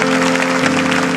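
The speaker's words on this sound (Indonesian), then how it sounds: "Kita berikan tepuk tangan untuk Roh Kudus" Congregation applauding during a church sermon: a dense, steady wash of clapping from many hands over a sustained tone of held organ or keyboard chords, loud and continuous throughout.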